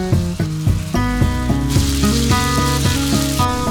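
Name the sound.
beef cooking, sizzling in a pan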